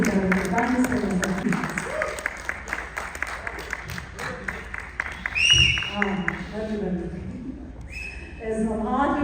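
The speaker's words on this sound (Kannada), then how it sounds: "ದಯವಿಟ್ಟು ಜೋರಾದ ಚಪ್ಪಾಳೆ ಡೈರೆಕ್ಟರ್ ಆಗಿ ಮ್ಯೂಸಿಕ್ ಡೈರೆಕ್ಟರ್." An audience at a film success meet gives loud applause for the director and music director, with dense clapping in the first half while a voice talks over it, then the clapping fades into more speech.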